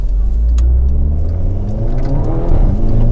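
Modified Volkswagen Jetta accelerating hard with its tires spinning, a loud close engine roar with rising revs and rough rumbling, no voices.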